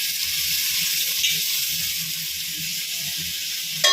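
Four thinly sliced onions fry in a pan for Tamil-style biryani, giving a steady, close sizzling hiss that stays even throughout, with faint low background murmurs.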